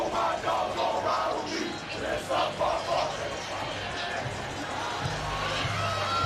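A packed college football stadium at LSU on homecoming weekend, before a game against Ole Miss, fills with a broad, steady roar of cheering crowd noise, distant and continuous, with no clear talk.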